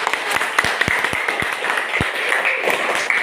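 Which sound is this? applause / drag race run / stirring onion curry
applause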